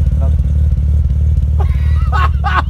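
Freshly ported Mazda RX7 FD rotary engine (mild street porting) idling, its steady low drone rising and falling throughout, with a person talking briefly near the end.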